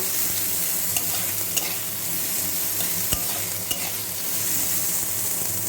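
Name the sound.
onion and garlic frying and being stirred in pan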